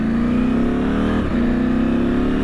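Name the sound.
car accelerating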